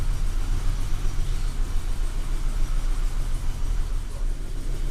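A BMW E32 engine runs steadily after refueling, a close, low, even idle rumble with no voices over it.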